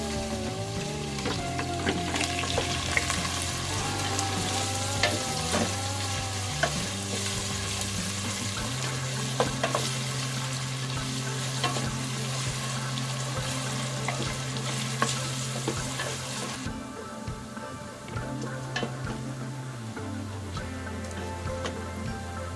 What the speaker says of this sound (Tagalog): Ilagay na natin yung ating sibuyas.